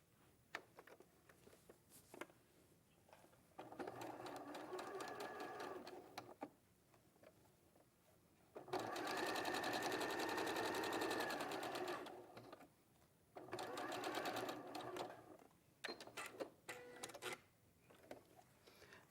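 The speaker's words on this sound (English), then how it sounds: "you should be good to just sew down that seam" A sewing machine stitches down a quilt seam on a magical forest craft project, its rapid mechanical chatter running in several bursts separated by short pauses, fairly close and steady.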